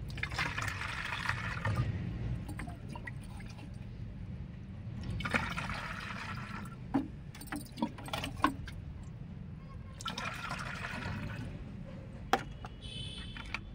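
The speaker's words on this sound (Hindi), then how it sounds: "इसमें 1 गिलास ये है तो 3 गिलास हम पानी मिलाएंगे" Water poured from a glass into a spray bottle holding a turmeric, lime and tobacco mix for chili plants, in three separate gurgling pours of a few seconds each, fairly faint, with small clicks and handling sounds between.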